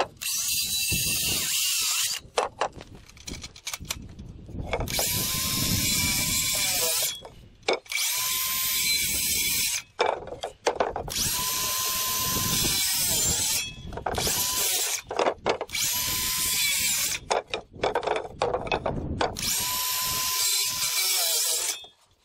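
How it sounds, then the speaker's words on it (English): Power drill driving screws through 2x4 concrete form boards into a pallet, several long whirring bursts separated by short pauses, loud and close with ratcheting clicks and wood creaks. "Screw this down right to the pallet"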